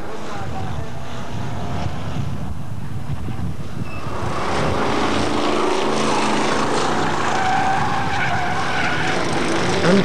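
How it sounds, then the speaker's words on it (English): A hotstox race car spins out near the finishing flag on the oval at Buxton, loud engine roar and tyre skidding sustained throughout, growing busier and brighter midway with crowd and track noise. "And 303, Jim Bamford spins out again in sight of the finishing flag."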